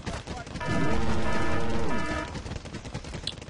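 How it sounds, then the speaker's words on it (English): Gunfire aimed at a Humvee in a military video game, a sustained burst of rapid automatic fire lasting over a second, loud and close, then fading into quieter clatter. "We're going to fire on position on this Hemet."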